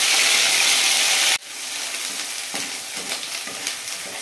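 Onion paste dropped into hot oil with bay leaf and whole garam masala for a gourd kofta curry, a loud burst of sizzling that settles into steady frying crackle with occasional stirring scrapes, close and with no talk.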